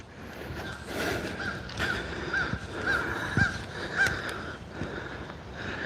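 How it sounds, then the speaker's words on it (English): Crows caw repeatedly in the background outdoors beside water during a bass fishing outing, a series of harsh calls spaced across the scene amid light ambient noise. "Got the crows in the background."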